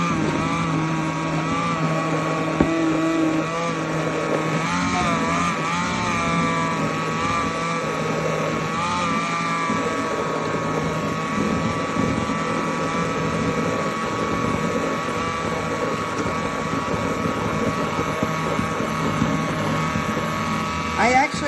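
MEGAWISE 3-in-1 immersion hand blender with a stainless steel shaft running on its start setting to whip cream: a loud, steady motor whine with a constant pitch throughout, with a person talking over it at times.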